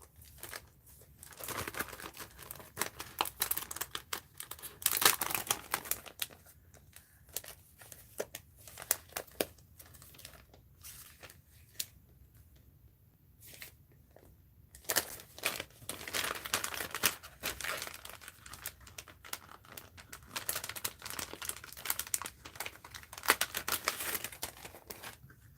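Stickers being peeled and handled for a mixed-media art journal, giving repeated close crinkling and rustling of paper and backing sheets in irregular bursts, with a quieter stretch in the middle.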